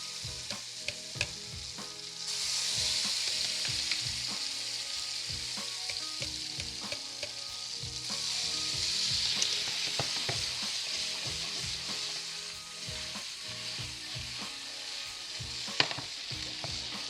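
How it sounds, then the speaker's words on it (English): Gnocchi frying in brown butter in a pan, a loud continuous close sizzle that swells and settles, punctuated by frequent stirring scrapes and clinks throughout, with no talking. "Just gonna drop them right into our brown butter."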